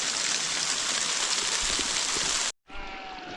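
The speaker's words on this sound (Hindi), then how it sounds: "ओले अभी भी पड़ रहे हैं और रुकने की बजाय अभी जो है ज़्यादा स्पीड से पड़ रहे हैं" Hail pours down steadily in a mountain meadow, a dense, loud, continuous hiss and patter that cuts out briefly near the end before resuming with the same roar.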